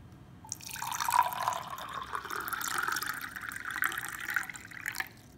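Water pours steadily into a glass, filling it to about four-fifths, with a close, clear gurgling stream whose pitch rises as the glass fills before stopping abruptly.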